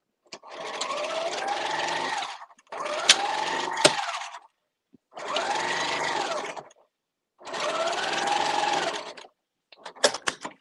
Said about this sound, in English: you are gonna sew 5/8 seam allowance again to close this side up